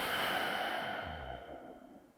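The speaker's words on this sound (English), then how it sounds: "I might start my practice with maybe 3, 4, 5 extended exhales" A long, steady exhale drawn out slowly during breathing practice, a soft airy breath that fades gradually over a couple of seconds, close and alone.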